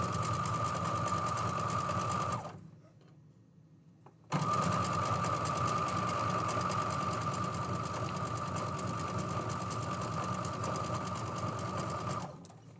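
A sewing machine sews fabric strips together in a steady, close whir, stops for a short pause, then runs again at a constant speed until it halts at the end, with no talking.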